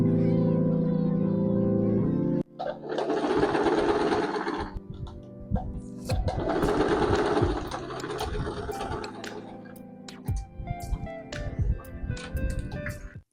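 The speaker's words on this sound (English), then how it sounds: "I'm going to sew and serge, and I'll do the same thing for my lining." Sewing machine and serger stitching pleated skirt fabric, heard as two loud sustained whirring runs of rapid mechanical stitching split by short pauses, followed by scattered clicks and fabric handling close by.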